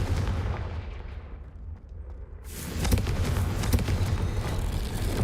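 A Confringo blasting spell cast in the Hogwarts Legacy video game: loud, dense fiery bursts and booming impacts that swell after a brief dip, then continue as a sustained crackling barrage.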